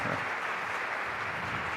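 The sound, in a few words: audience applause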